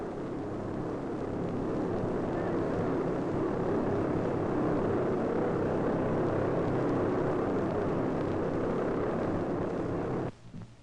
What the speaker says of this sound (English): the airplane begins to move slowly, almost clumsily, out to the takeoff runway